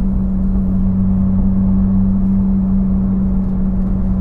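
A Porsche 911 GT3 of the 991.1 generation, with its exhaust valves held fully open, holds a steady low droning hum at about 2,000 RPM as heard from inside the cabin, constant and close throughout.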